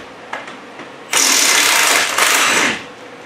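A power socket tool with a 15mm socket spins out brake caliper bracket bolts on a 2011 Chevrolet Impala. It gives one loud, continuous whirring burst of about a second and a half after a few faint clicks.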